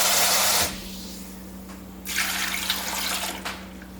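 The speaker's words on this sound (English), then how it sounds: "So I'm going to go with about 3 cups of water." About three cups of water poured into a blender for making pure coconut oil: a loud rushing splash, a pause, then a second, softer pour lasting a couple of seconds.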